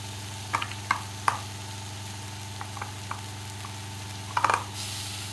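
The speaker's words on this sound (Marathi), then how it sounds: "छान मसाला तेल सुटेपर्यंत परतून घेऊयात" Ground coconut and sesame masala paste sautéing in oil, a soft steady sizzle with scattered clicks and scrapes of stirring over a constant low hum.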